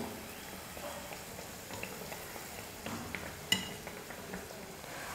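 Badusha fry steadily over a medium flame with a soft, constant sizzle and bubble. Occasional light clinks of a utensil against the pan sound close but faint, and no one speaks.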